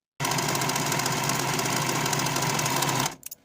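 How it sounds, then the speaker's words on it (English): A serger runs steadily for about three seconds, a loud continuous mechanical whir with fast rhythmic stitching as it finishes the raw center front edges of a peplum skirt, then stops abruptly. "I'm going to be using my serger"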